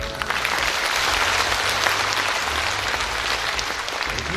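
An outdoor rally audience applauds as guests are introduced at an Incheon city hall relocation event, with a steady, fairly loud wall of clapping and a low rumble of background noise underneath.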